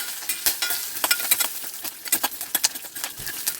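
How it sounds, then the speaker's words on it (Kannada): Byadagi chillies, coriander, cumin and garlic sauté in a pan, giving quick dry crackles and scraping stirs in an uneven, close rhythm. "ಇಷ್ಟು ಹಾಕಿ ಚೆನ್ನಾಗಿ ಬಾಡಿಸ್ಕೊಳ್ತೀನಿ ನಾನು"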